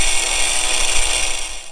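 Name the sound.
small angle grinder cutting metal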